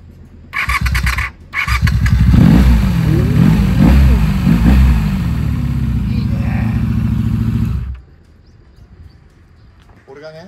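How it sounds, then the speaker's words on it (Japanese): A Honda VF motorcycle in a garage starts up and revs loudly and close, engine roar rising and falling for several seconds before cutting off into near silence. "俺がエンジンかけて"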